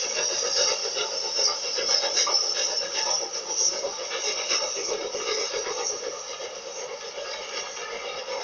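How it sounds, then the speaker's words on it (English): Steam locomotive 60813 on British Railways in the 1960s, climbing out of Kingmoor Yard near Carlisle on the original route over the West Coast Main Line; a steady, continuous rumble and hiss of a train running throughout, fairly loud with no talk. "Leaving Kingmoor Yard, 60813 climbs to cross the West Coast Main Line on the original MB route."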